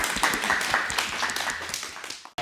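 A studio audience claps for a departing contestant on a dating game show in St. Louis, a dense, sustained round of applause that fades out near the end.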